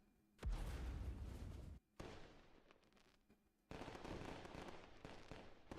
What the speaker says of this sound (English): Fireworks. Yay.